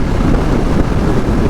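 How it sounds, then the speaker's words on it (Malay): Strong wind buffets a phone microphone outdoors during motorcycle work on an NVX, a dense continuous roar of gusting noise at close range, with no voices. "Telefon sekarang ni angin laju, angin kuat"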